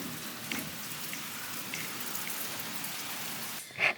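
Rain falls steadily outside in a city, a soft, even hiss at moderate distance with a brief louder splash near the end.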